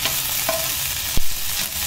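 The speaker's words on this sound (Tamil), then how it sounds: "சும்மா ஒரு 5 மினிட்ஸ் வதக்கணும் போதும்." Coconut and mint sauté in a pan for chutney, giving a steady, close sizzle with occasional stirring scrapes and one sharp knock against the pan.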